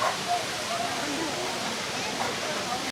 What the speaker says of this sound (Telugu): అటు పక్కన ఇటు పక్కన అయితే వాటర్ ఫాల్స్ అవుతున్నాయి, వాటర్ ఫాల్స్ పడుతున్నాయి